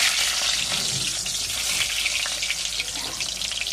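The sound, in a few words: potato frying in a pan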